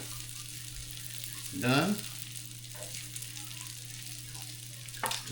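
Onions sizzling on a grill, a faint steady fry under a low constant hum, with a brief louder scrape or stir near the middle and someone speaking briefly.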